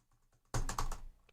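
A computer keyboard is pounded in one short, loud clatter of close keystrokes that lasts about half a second, then quickly dies away into quiet.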